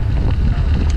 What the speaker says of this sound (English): Enjoying some time out here in the breeze. Heading south into the headwind. And there is a headwind.